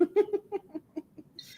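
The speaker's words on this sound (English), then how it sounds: "here's your ASMR portion of the stream where we listen to Joey meow" A series of short, soft meows or chirps in a steady rhythm, close by, trailing off into a faint hiss at the end.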